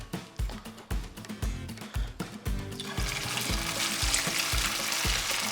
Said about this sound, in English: So let's slide these crappie patties in the grease.